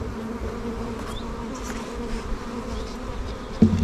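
Honeybees buzz steadily at an open production hive while the frames are being handled, a dense close drone with a brief louder bump near the end.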